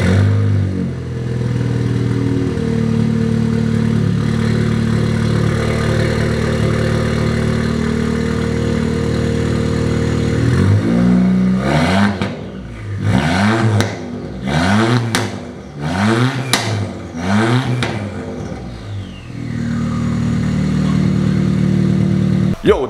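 A loud Ford Fiesta ST engine with a 3-inch straight-pipe exhaust idles with a deep rumble, then revs sharply several times in quick bursts before settling back to a steady idle.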